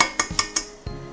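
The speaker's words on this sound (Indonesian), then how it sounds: "Nah, kemudian pecahkan telur" An egg is cracked into a bowl of donut batter, with several quick, sharp taps against a hard rim and then a duller crack, close and moderately quiet.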